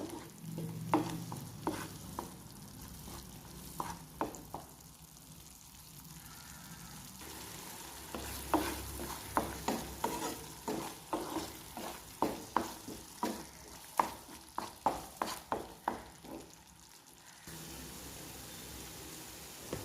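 Masala with green chillies and chilli powder is sautéed in a pan: a low sizzle runs throughout while a spatula scrapes and taps in quick, repeated strokes, loudest in the middle and ending with a quieter steady fry.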